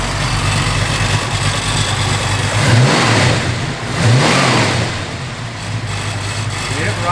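A 1974 Plymouth Barracuda with a lumpy cam idles loudly, then blips its throttle twice in quick rising-and-falling revs before settling back to a choppy idle.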